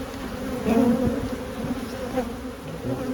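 Honey bees hum at an open beehive in a steady, close, droning buzz that holds without a break.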